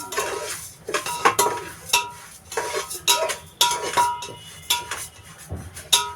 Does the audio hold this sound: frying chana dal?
yes